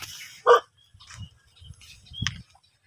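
A single sharp dog bark rings out near the start, followed by a second shorter yelp later, with quiet low rustling between them.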